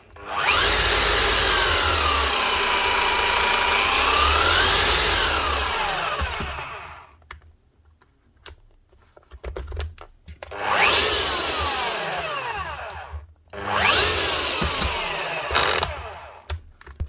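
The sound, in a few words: Makita HR3000C SDS Plus hammer drill rotating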